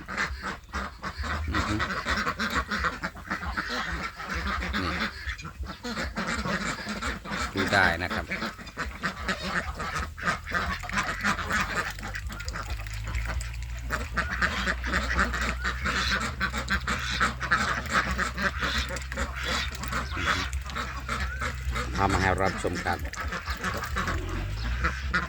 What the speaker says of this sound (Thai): ที่ท่านได้รับชมอยู่นี้เป็นเป็ดอีเหลียงนะครับ